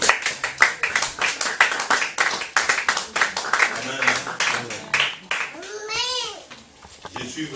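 A church congregation claps rhythmically and steadily, many hands together in a lively beat, with voices and a child's chatter mixed in and a singing voice rising toward the end.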